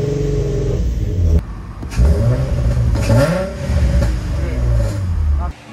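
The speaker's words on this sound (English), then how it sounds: "the car finally started" A Nissan G35 engine runs just after its first start-up on a build, revving up and down in loud surges between idle stretches, with people talking nearby.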